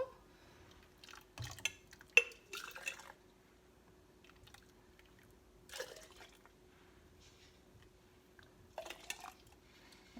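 Ladle clinks against a pot and mug while warm butterbeer is poured, a few scattered scrapes and splashy knocks separated by quiet pauses, close and moderately soft.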